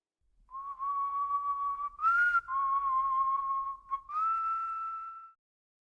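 A long, slow, eerie whistle carries through the Appalachian woods, one sustained steady tone broken by a brief upward slide midway and a second rising step near the end, alone against near silence.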